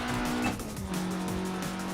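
A Polonez car revving hard in third gear on a slightly uphill stretch of the Nürburgring, a steady engine drone heard from inside the cabin that rises in pitch, then dips briefly and climbs again.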